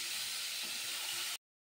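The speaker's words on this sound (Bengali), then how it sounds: "এবার আমি আলুগুলো ফ্রাই করে নেব।" Parboiled potatoes fry in a pan with a steady, soft hiss and sizzle that runs without a break for over a second and then cuts off abruptly.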